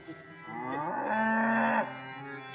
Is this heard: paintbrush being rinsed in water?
no